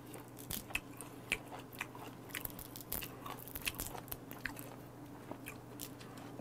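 Crispy salt-grilled whiteleg shrimp being chewed up close, with repeated crunchy bites and crackling mastication at an uneven pace, alone without speech.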